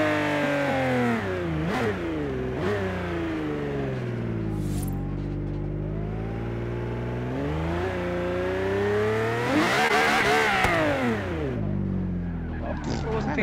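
At a car show, a car's engine revs and whines through rising and falling gear sweeps as it speeds past nearby, swelling loudest toward the end before fading.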